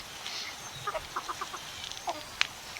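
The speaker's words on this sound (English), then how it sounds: "So I've got a couple of my hens in there. See how they do it picking weeds." Silver-laced Wyandotte hens pick at weeds, giving soft, scattered clucks and short calls at moderate distance against a quiet outdoor background.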